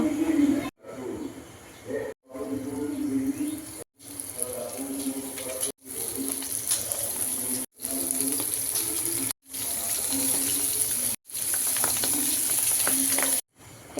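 Pabda fish frying in oil in a pan gives a steady, moderately loud sizzle with watery crackle, broken by several short cuts of silence.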